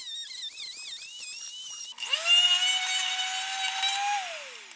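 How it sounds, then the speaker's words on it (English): A Dremel rotary tool whines at high speed through Nerf blaster plastic in one cutting pass, its pitch wavering under load before settling into a steady high whir that winds down at the end. It sounds close and loud, with no talking. "I'm just going to Dremel through and make one pass through."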